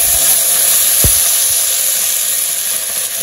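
Vegetables hit hot oil in a pan with bay leaf, cumin and ginger for chorchori, giving a loud, close, continuous sizzle with a brief stir, no talking.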